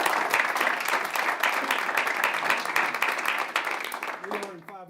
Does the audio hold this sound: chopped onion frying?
no